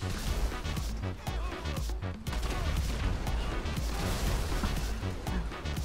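Dense chain of explosions and crashing bursts from burning cars in GTA Online, loud and continuous with rapid overlapping booms and debris clatter throughout.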